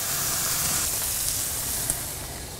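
Barbecue-sauce-glazed chicken breasts cooking directly over the fire on a Kamado Joe grill, giving a close, steady hiss and sizzle with a faint crackle, no talking.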